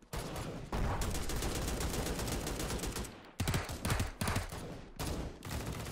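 Sustained gunfire from a squad in the Tales Of Glory 2 VR game, a dense crackling volley with a few short gaps and bursts, fairly loud and steady throughout.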